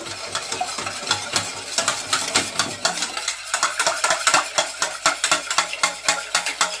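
Harcha batter of oil and a pinch of salt being stirred in a bowl, a steady run of close, regular scraping and clinking strokes that quicken toward the end, with no talking.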